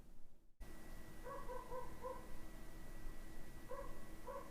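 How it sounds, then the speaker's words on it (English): A neighbour's dog barks faintly in the distance in two brief clusters of yips over a steady background hiss. "Oh look, the neighbour's dog's barking again."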